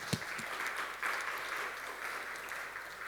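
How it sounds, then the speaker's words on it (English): Steady audience applause at a physics lecture, fairly loud and continuous with a sharp clap near the start, no voices over it. "please give him a warm round of applause"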